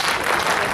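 An audience at a Hindi comic poetry recital breaks into brief, dense clapping, a steady burst of many hands lasting under a second with no voices over it.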